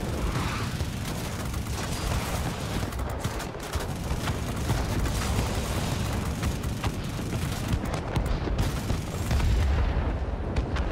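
Rapid aircraft cannon fire at about 3,000 rounds per minute from a Lockheed F-94D Starfire jet in World of Warplanes, a dense, continuous roar of gunfire lasting the whole stretch without speech.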